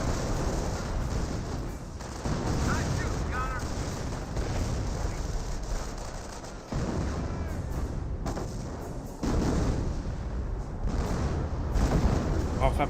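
Artillery barrage in Company of Heroes 1, heavy booming impacts and rumbling blasts rolling on continuously at moderate loudness under a commentator's voice.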